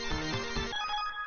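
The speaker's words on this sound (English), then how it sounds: "Where's my phone? I think I heard something go off." A mobile phone alert or ringtone going off, a brief bright electronic chime that plays for under a second and then rings out into near silence, with nobody talking.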